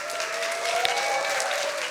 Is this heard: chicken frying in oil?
no